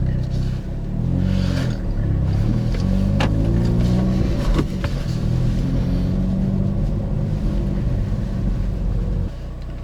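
A manual-gearbox Hyundai Veloster N pulls away, its engine and exhaust giving a loud, close, continuous rumbling drone that rises and falls with the revs, then drops back near the end.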